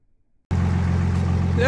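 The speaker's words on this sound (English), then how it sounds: "sorry for all the diesel noise, unless you enjoy diesel sounds" A diesel engine cuts in abruptly after a moment of silence and runs at a steady, loud, low-pitched idle rumble, close by, continuing without a break.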